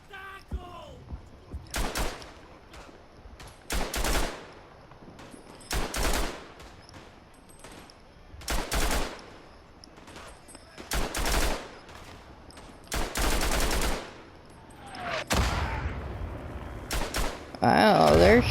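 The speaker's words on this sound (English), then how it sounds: "they're shooting artillery down here" Artillery and gunfire in the WWI game Tannenberg: repeated loud blasts and bursts of rifle fire every second or two, separated by quieter gaps, with a voice talking between them.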